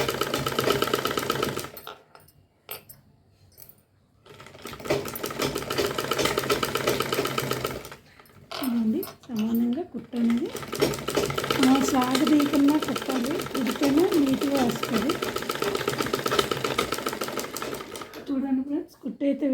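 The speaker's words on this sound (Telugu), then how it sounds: "నేను కుట్టు కూడా వేసి చూపిస్తున్నాను" A sewing machine stitches a boutique-style high neck blouse, running in loud rapid bursts with brief pauses between runs, while a person talks over parts of it.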